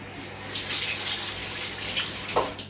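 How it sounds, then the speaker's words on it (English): Tap water runs over a lemon being rinsed at a kitchen sink, a steady, moderately quiet splashing hiss that continues throughout with slight swells. "I'm just going to wash off this lemon, bear with me."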